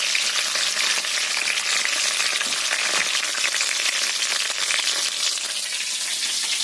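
Potatoes, cumin seeds and raw tomato frying in hot oil in a home kitchen pan, a steady dense sizzle running unbroken and fairly loud from start to finish with no voices.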